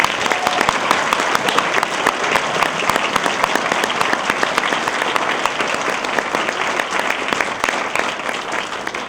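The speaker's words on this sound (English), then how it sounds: "can I hear your rounds of applause for all the winners tonight?" A large audience at a science fiction convention's awards evening gives the winners loud, dense applause, continuous close clapping that stays strong and even throughout.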